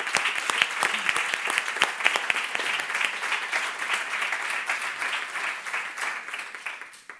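A conference audience in a hall applauds the three speakers at a breast cancer information session, steady dense clapping sustained for several seconds without talk over it.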